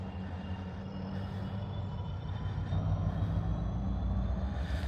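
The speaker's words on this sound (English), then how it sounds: "There's the train." A train passes at a distance as a steady, broad rumble that slowly grows louder, with faint high metallic squeal over the roar and no talking.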